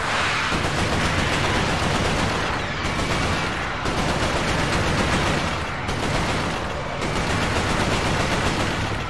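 Sustained automatic carbine fire in the Resistance: Fall of Man video game, a loud, dense stream of rapid shots running nearly unbroken with brief pauses between bursts.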